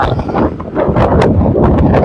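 Wind blows at dusk on a street in South Jakarta, a loud, steady rumbling gust buffeting the microphone throughout, with no voices.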